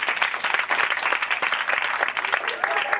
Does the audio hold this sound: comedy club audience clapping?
yes